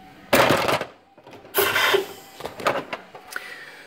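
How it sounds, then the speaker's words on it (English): A pneumatic rivet puller with an offset pulling head sets a cherry rivet in sidepod sheet metal, giving a few sharp hissing, clattering bursts separated by quieter gaps, close by. "So what I'm using here is the offset pulling head."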